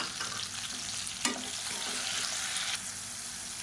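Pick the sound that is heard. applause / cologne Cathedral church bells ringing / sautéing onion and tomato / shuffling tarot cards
sautéing onion and tomato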